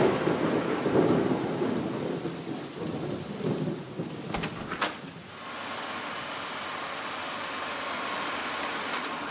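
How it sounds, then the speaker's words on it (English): Rain pours steadily as a sound effect for a children's nursery rhyme, with a sharp crack of thunder and a rumble partway through, then an even, lighter hiss of rain to the end. "What's that? It's raining."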